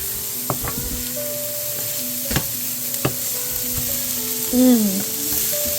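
Ingredients for a bean soup sizzle softly in hot oil while being stirred with a spoon, with occasional clacks against the pot and a faint tonal hum in the background, plus a brief squeaky scrape near the end.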